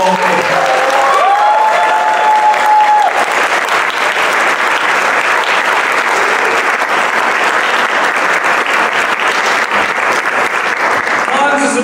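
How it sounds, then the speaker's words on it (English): Audience at a new-works theater gala in Pittsburgh gives a loud, sustained round of applause, a thick wash of clapping from a large crowd, with a voice briefly heard at the start. "we owe a heartfelt round of applause"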